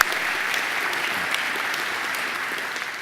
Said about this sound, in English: I think Mr. Nicholas deserves another great round of applause.